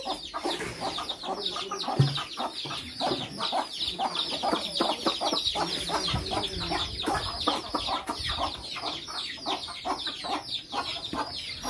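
A flock of chickens clucks busily and continuously, many birds overlapping at close range in a steady, chattering stream.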